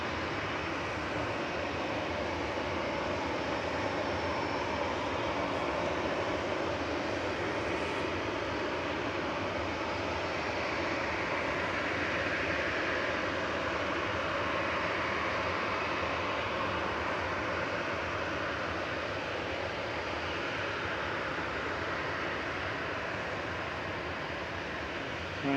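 An 8-year-old Ryanair Boeing 737-800 jet at Manchester Airport gives off a steady, broad engine roar that holds at an even level throughout, sounding moderately distant, with no talking.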